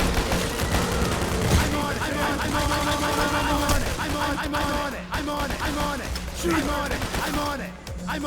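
Sustained automatic gunfire in a Payday: The Heist shootout rattles in rapid bursts almost without pause, loud and dense, with occasional voices mixed under the shooting.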